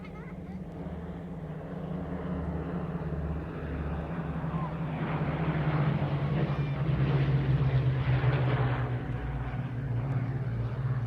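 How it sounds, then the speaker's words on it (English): A Lancaster bomber flying with two Spitfires of the Battle of Britain Memorial Flight makes a final pass at an RAF airshow, a steady loud piston-engine drone that swells toward the middle and stays strong, with no talk over it. "But now, from our right, the Lancaster and the two Spitfires of the BBMF for their final pass."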